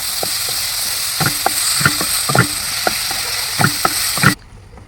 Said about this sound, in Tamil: மஷ்ரூம் சூப்பராக வதங்கிடுச்சு.